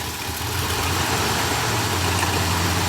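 A 1966 Cadillac Eldorado engine runs with a steady, even rumble that holds close and loud throughout, without distinct rises in pitch.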